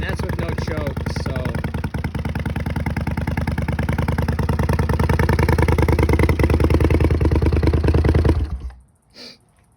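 A cold Honda CX500 cafe racer motorcycle engine idles without choke, a loud, close, steady rumble with light clatter that runs unbroken before cutting out shortly before the end.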